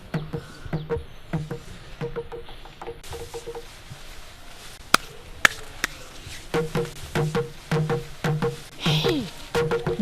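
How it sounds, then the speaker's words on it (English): A traditional Igbo ikoro slit drum beaten in steady, spaced wooden knocks that come in bursts, with a few sharper accents and quieter gaps, set in a dramatic film scene. "That's the sound of Ikoro."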